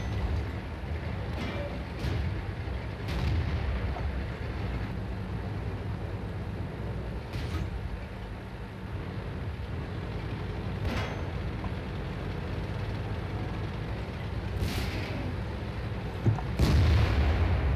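Tank cannons firing in the video game World of Tanks, several muffled booms spaced across the stretch over a constant engine rumble, one sharper shot near the end.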